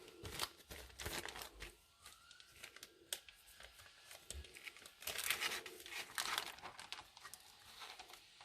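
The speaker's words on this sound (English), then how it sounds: "So I'm going to get my plastic out." A plastic sheet being taken out and handled while making fondant roses in a kitchen, giving irregular close crinkling and crackling rustles with sharp snaps, busiest toward the end.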